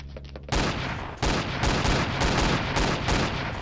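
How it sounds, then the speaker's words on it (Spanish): Rapid gunfire bursts from a Roblox shooting game, loud and dense, starting after a short quiet lead-in and continuing as repeated volleys with no talk over them. "Vamos a disparar."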